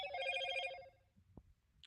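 A telephone on a radio call-in line rings with a bright, warbling electronic trill that lasts under a second and then cuts off, leaving a quiet line with a faint click.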